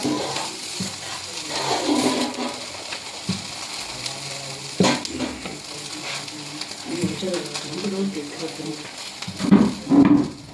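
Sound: frying kata bajji fritters in a pan

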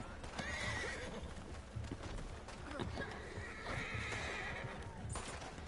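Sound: horse neighing and hooves in the video game Red Dead Online

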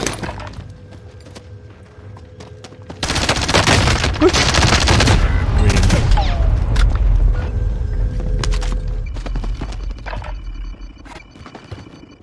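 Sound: gunfire in the video game Call of Duty: Warzone

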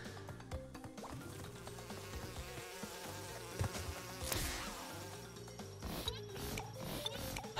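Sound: bee buzzing in Crash Bandicoot N. Sane Trilogy video game

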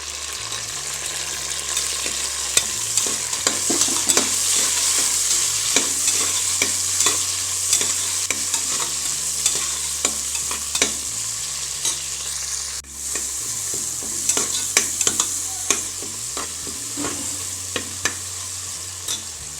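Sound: sautéing onions and tomatoes in a pan for pudina rice

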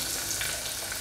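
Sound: chopped onions added to hot oil, frying

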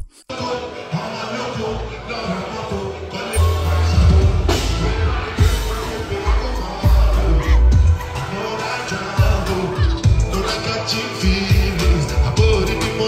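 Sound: concert crowd singing along to a song

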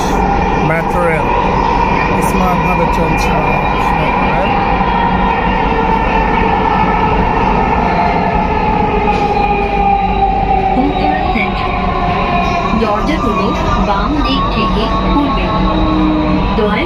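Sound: metro train running in Bangladesh

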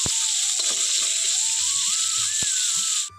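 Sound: shol fish frying in a pan

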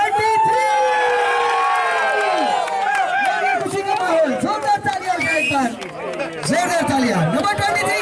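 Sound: audience applauding and cheering at a cat show prize announcement

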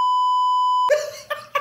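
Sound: censor bleep

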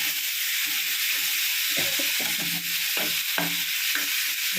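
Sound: sautéing green chilli and tomato for rasam

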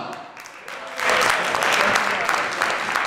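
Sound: audience applause for the jury

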